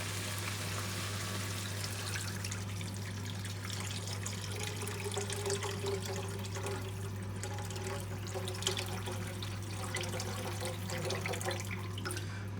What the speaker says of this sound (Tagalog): lagyan natin ng pinakasabaw niya